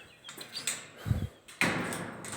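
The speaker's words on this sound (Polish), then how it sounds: "drzwi nie zamknął po sobie, ale ja zamknę" A door is shut indoors with a dull low thud, then a sharper clatter and a lingering rattle, heard alone at moderate level with some faint higher scraping noises before it.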